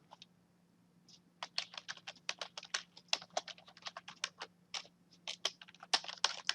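Keys on a computer keyboard are tapped in quick, uneven bursts, close and fairly quiet, with short pauses between runs of typing and a low steady hum beneath.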